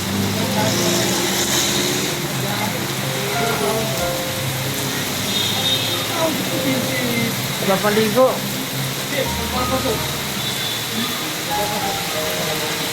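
A sudden heavy downpour in Congressional, Quezon City, a steady, dense hiss of rain on surfaces with scattered drips and a passing vehicle, while a person talks over it.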